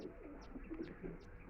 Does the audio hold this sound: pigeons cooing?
yes